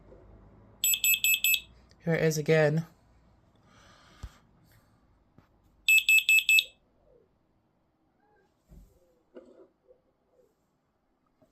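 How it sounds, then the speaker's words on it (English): An optical smoke alarm with radio link emits two bursts of rapid, piercing high-pitched beeps, close and loud, separated by a few seconds, while someone speaks briefly between them in a quiet room. "our smoke alarm, optical smoke alarm."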